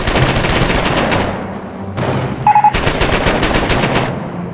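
A machine gun in the Company of Heroes video game fires long, loud rapid bursts, broken by a short pause and a brief beeping tone before firing resumes close by.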